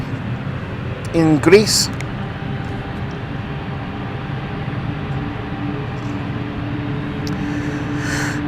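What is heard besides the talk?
passenger jet departing London City Airport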